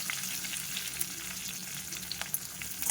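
Cumin seeds and chili crackle in hot oil for a tempering, a close, continuous sizzle peppered with small sharp pops, with no talking.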